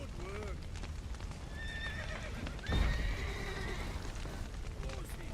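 Several horses whinny in quick succession over clopping hooves, with a heavy thud partway through and voices mixed in, in the video game The Witcher 3: Wild Hunt.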